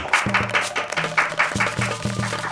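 Audience clapping at a Yoruba television quiz show, a dense burst of hand claps mixed with crowd noise and raised voices over about two and a half seconds.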